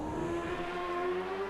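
A 2000s CART open-wheel race car engine in the Automobilista 2 sim racing game, driven at Road America, holds a steady high-pitched whine from start to finish, with a slight rise in pitch and no talking.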